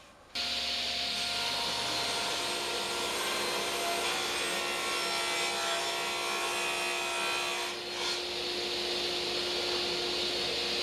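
A power saw runs steadily through wood panels cut for bed storage boxes, a continuous loud whining drone lasting the whole stretch with a brief dip near the end, with no voices.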